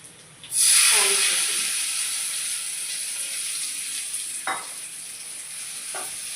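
Tempering for tomato chutney hits hot oil in a pan with a loud burst of sizzling that settles into a steady hiss, with a couple of brief scraping stirs later on.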